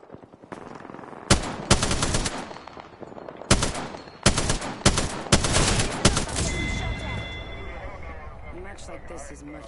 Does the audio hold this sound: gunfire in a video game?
yes